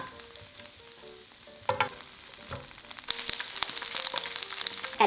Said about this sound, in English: Pan fry until lightly brown for about 1 minute.